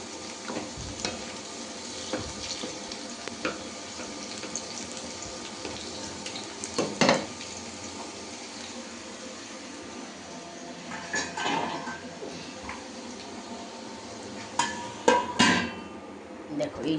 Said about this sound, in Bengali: তোমরা একটু ভেজে নিই, সব কটাকে তুলে রেখে উচ্ছে আর সজনে ডাঁটা দেবো।